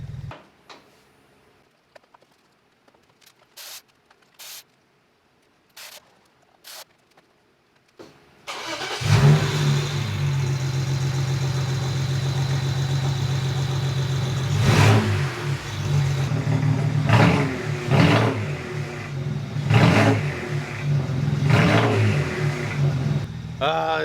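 A BMW 335i with a cylinder 3 misfire sits quiet apart from a few faint clicks, then starts and idles roughly, with several sharp revs rising over the steady engine hum.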